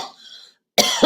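A single sharp cough bursts out loud and close after a faint breathy stretch and a moment of silence, with a second smaller catch at the end.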